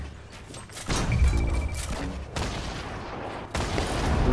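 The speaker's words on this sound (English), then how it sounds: "you're already shooting at them" Video game gunfire crackles in bursts, loud and close, with heavy volleys starting at about one second and surging again near the middle and end, layered over a dense rumbling battle din.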